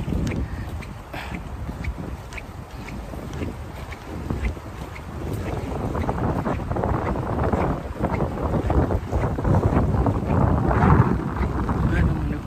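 Steady wind buffeting an outdoor microphone at a fishing spot in Saipan, a broad rumbling roar that builds slightly over time, with faint voices and water-like noise mixed in.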